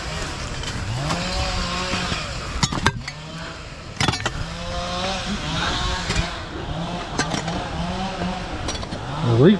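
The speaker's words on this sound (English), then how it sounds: "The leaf blower." A leaf blower used by a wildfire handcrew at the Middle Mesa fire, its small engine droning steadily and surging up and down in pitch, with sharp clatters and a few voices underneath.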